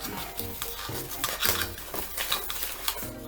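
Utensil stirring and scraping against a bowl while ingredients for a Jewish apple cake are mixed, with a steady clatter of repeated rhythmic strokes close by and no talking.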